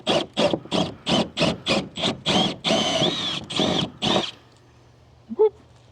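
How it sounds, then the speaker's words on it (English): Power drill boring a large hole through a Pelican Bass Raider kayak's plastic hull, heard as a run of about a dozen loud, close, rhythmic grinding bursts followed by a sustained whine, then stopping abruptly to near silence with a small knock. "We're drilling a big hole."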